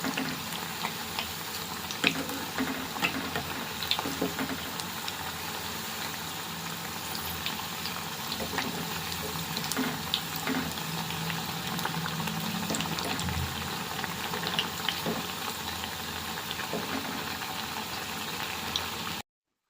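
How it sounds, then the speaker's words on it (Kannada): Spinach (palak) pakoda fritters frying in oil over a low flame, a steady close bubbling sizzle with dense crackles that runs unbroken for the full stretch, with no one speaking. "ಎಣ್ಣೆಯಲ್ಲಿ ಈ ರೀತಿ ಎಲ್ಲ ಕಲರ್ ಚೇಂಜ್ ಆಗೋವರೆಗೂ ಫ್ರೈ ಮಾಡ್ಕೋಬೇಕು"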